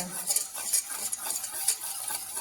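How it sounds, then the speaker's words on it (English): A utensil stirs milk into a fennel gratin sauce in a pan for a Sicilian recipe, a close, steady scraping swirl with light metallic clinks and no talking. "we can add the other milk, and we start to mix"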